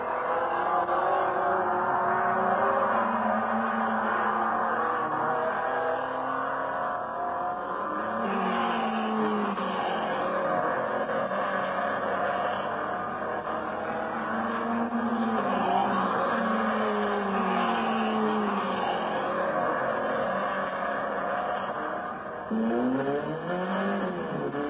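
Renault 5 race cars in the Coupe Renault 5 Elf season-opening race at Le Mans roar steadily, with engines revving up and down in repeated sweeps as cars pass, continuous throughout.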